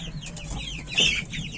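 Young turkey chicks newly moved from the house give a cluster of thin, high chirps and peeps close by, overlapping and rising briefly louder near the middle.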